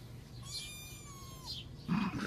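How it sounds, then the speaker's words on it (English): A cat gives a couple of thin, drawn-out meows, close and fairly soft, over a low background hum, ending with a rougher noise. "Listen to his cute meow."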